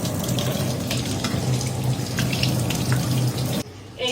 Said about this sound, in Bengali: সবসময় একটু এরকম ঠান্ডা জলে ধুয়ে নিতে হবে